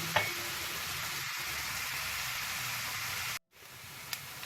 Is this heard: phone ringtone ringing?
no